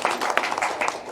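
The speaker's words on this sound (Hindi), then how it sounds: "उनका भी हम चाहते हैं कि ताली के द्वारा स्वागत किया जाए" Audience applause at a community honouring ceremony for municipal workers, a short, dense burst of clapping from a crowd heard close and fairly loud.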